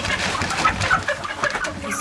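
Chickens clucking and murmuring inside a coop during farm chores, a busy overlapping flock chatter close by that runs steadily throughout.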